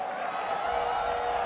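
Crowd in an esports arena at a League of Legends World Championship match cheering and reacting, a brief loud roar of many voices swelling over the hall.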